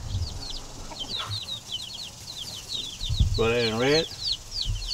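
Chickens, including black Asil chickens, cluck and chirp nearby, with one loud, warbling call rising above the rest while a person speaks briefly.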